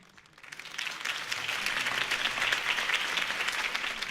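Crowd applause erupts after Harvey Dent's campaign speech in the Batman Telltale game, building over the first half second into a dense, steady wash of many hands clapping that holds loud to the end.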